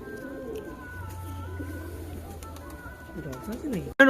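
Giribaj pigeons coo in a low, steady murmur through most of the stretch, with a voice talking over them and a brief loud knock right at the end.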